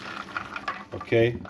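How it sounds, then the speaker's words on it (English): Dirty soaking water poured off beans, a gurgling splash rising near the end after light stirring and clatter, with a voice speaking briefly over it. "We're going to get rid of that dirty water"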